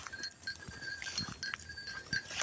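Goats arriving for feed at a farm bleat and call intermittently, with scattered hoof steps and shuffling, fairly faint and slightly distant, no voices.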